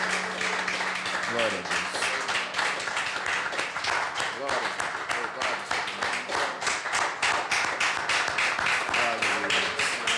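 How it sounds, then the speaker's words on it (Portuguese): A church congregation at a communion service applauds with steady, dense clapping that runs throughout, while a voice speaks over the applause. "Vamos dar uma salva de palmas para o Senhor?"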